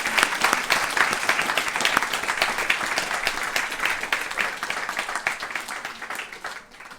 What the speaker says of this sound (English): we should give her a big round of applause for creating that.